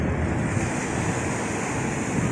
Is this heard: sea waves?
yes